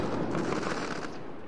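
A fireworks effect built in Unreal Engine 4 gives a brief, dense crackling burst, loud at first and then easing slightly as the rapid pops fade out.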